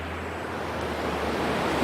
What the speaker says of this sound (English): Look at this running water!